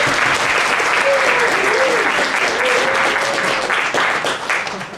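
Conference audience applauding hotel-industry speakers, loud sustained clapping that fills the room, with a brief vocal sound partway through and the applause tapering at the close.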